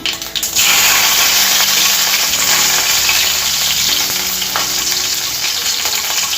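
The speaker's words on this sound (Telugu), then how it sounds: "చిన్నగా తరిగి పెట్టుకున్న ఉల్లిపాయలు, ఇవి కొంచెం వేగాలండి" Finely chopped onions fry in a pan for a mung bean sprout curry, giving a loud, steady hiss and sizzle that runs close and continuous throughout, with no talking.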